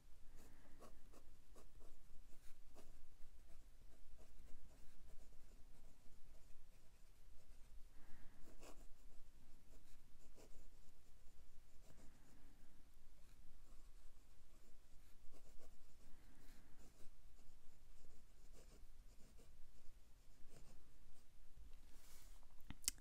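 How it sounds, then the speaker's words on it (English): Pelikan M805 fountain pen with orange ink writing on paper, a soft continuous nib scratching with faint rhythmic strokes close up and fairly quiet, with no talking. "let's do some writing"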